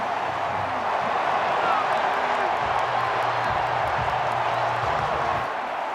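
A college football stadium crowd, Washington at Indiana, keeps up a loud, continuous roar and cheer through the whole stretch, with a commentator's voice running underneath.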